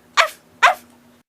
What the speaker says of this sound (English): Then the mother dog came and barked at the cat.